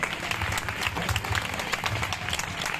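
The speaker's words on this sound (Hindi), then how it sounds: "तालियों से स्वागत करेंगे।" Applause from the crowd at a school Independence Day flag-hoisting ceremony, steady dense clapping that continues without a break throughout.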